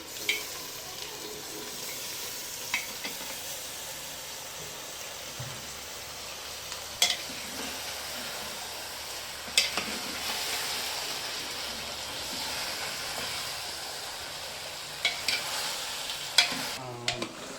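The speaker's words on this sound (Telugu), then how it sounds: "ఈ తలకాయ మాంసం, కాళ్ళు వేసేసుకొని చక్కగా దీంట్లో మనం ఫ్రై చేసుకోవాలి." Goat head meat and trotters frying with ginger garlic in a pan, giving a continuous close sizzle broken by occasional sharp stirring clacks.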